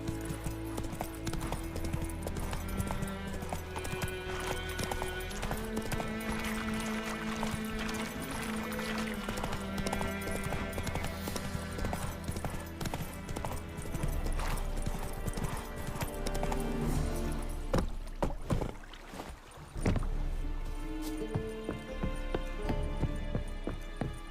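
Roach the horse gallops in The Witcher 3, hooves clip-clopping in a steady, fast rhythm over a continuous music bed, with a brief whinny-like accent near the end.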